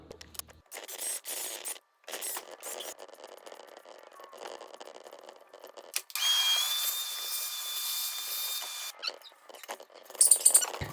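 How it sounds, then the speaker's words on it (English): A power drill bores holes in a 47RE/RH automatic transmission part for a third-generation Cummins, in intermittent close bursts with a longer steady run near the middle. "So let's go ahead and get drilling."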